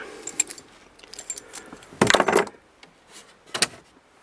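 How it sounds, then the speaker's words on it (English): Car keys jangle in a few short metallic bursts, the loudest cluster in the middle, as they are handed over at a salvage yard car, with faint rustling between. "Unfortunately, the glove box doesn't have a manual in it, but here's the keys."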